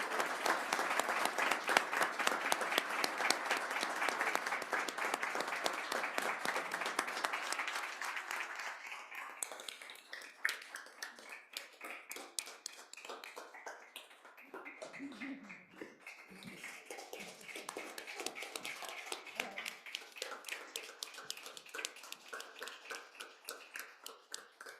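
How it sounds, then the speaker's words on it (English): Sustained applause from an audience at a transit agency board meeting honouring long-serving bus operators and employees, loud and dense at first, then thinning into scattered claps that fade out toward the end. "some applause acknowledging our great employees"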